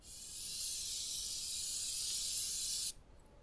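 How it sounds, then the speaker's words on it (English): Brake parts cleaner is sprayed onto a car's brake assembly as one continuous hiss of about three seconds, close and steady, then it stops abruptly. "Now you can spray this down with brake parts cleaner."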